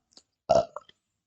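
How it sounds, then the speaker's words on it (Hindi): A single short, throaty burp, close and fairly loud, standing alone in an otherwise quiet moment. "बर्प मीन्स होता है डकार मार"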